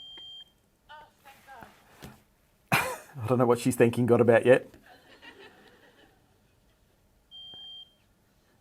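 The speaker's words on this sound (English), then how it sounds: "It's not a very loud sounder in this smoke alarm." A thin, high electronic beep from a smoke alarm's weak sounder sounds briefly at the start and again near the end, with talking and a chuckle in between.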